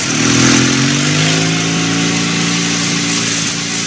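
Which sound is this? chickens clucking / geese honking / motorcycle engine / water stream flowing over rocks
motorcycle engine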